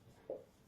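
A single brief stroke of writing on a board during a Hindi-language classroom lesson on the Indian economy, soft and faint against quiet room tone.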